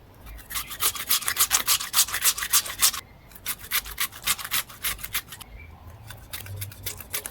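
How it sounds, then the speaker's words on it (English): Raw potatoes are rubbed against a kitchen grater in quick rhythmic rasping strokes, in three bursts separated by short pauses, close and clear with no talking. "I'm going to grate my potatoes."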